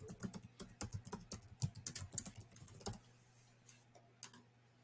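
Fingers type a business name on a computer keyboard in a quick run of crisp, close key clicks for about three seconds, followed by a few scattered taps in a quiet room.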